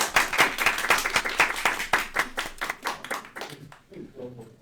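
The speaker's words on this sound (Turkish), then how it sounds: "Ben ilk önce Alper yoldaşımı alkışlamak istiyorum." An audience at a socialist discussion event in Ankara claps for a speaker, a burst of rhythmic applause that thins out and fades within a few seconds.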